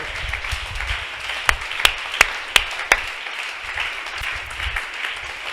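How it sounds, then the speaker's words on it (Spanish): A church congregation at an evangelistic service applauds, a muffled wash of clapping under room noise with a handful of loud close claps in quick succession partway through. "Hermanos, un aplauso más grande al alfarero."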